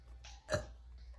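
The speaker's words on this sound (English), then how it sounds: "Burp." A single short burp, close and fairly quiet, a quick gulping sound rising out of near silence.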